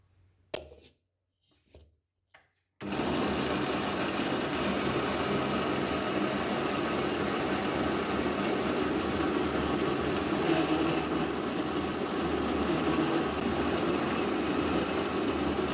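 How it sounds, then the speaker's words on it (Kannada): A few short clicks and knocks, then an electric mixer grinder starts and runs at a loud, steady whir for over twelve seconds, grinding raw banana papad dough. "ಇದು ಇನ್ನೂ ಸ್ವಲ್ಪ ನುಣ್ಣಗೆ ರುಬ್ಬಬೇಕು."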